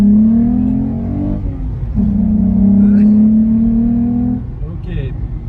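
Volkswagen Golf 3 VR6 accelerating, its engine note climbing steadily through a gear and easing off near the end, heard from inside the car with people talking over it.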